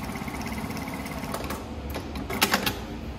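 A JUKI industrial sewing machine stitching, the DDL-9000C-FMS or DDL-8700-7, giving a fast steady mechanical patter with a few sharper clicks and thumps near the end, close by and without speech.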